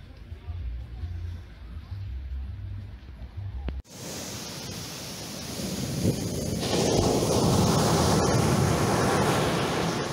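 Surf rolls in at Lonely Beach on Koh Chang, Thailand, a steady wash that swells louder toward the end, mixed with wind buffeting the microphone after a brief quieter stretch with a voice.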